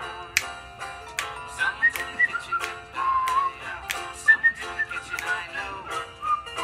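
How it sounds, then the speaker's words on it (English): A person whistles along to I've Been Working on the Railroad, a quiet melody of short, separate notes and a few held tones over faint background music, with no talking. "I'm whistling to it, and she's loving it."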